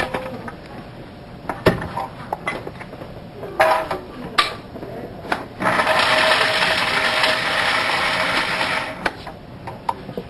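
A Vitamix blender grinding walnuts runs as a loud, steady whirring roar for several seconds, preceded by short bursts and clatter as the machine is started and stopped.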